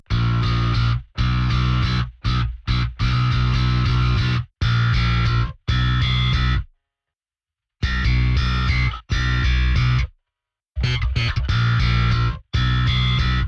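Bass guitar played first with a pick, then with the fingers, in a full rock song mix with distorted, effects-heavy tones; loud dense phrases broken by short silent gaps.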